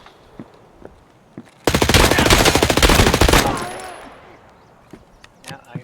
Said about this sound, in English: Now, because they're shooting, it's drawing attention.